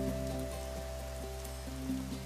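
Steady rain falls continuously, a dense even patter with a low constant hum beneath it.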